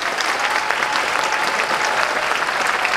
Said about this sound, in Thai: ขอเสียงปรบมือกับทีมงานแบ็คสเตจและพี่ๆศิษย์เก่าของเราด้วยนะ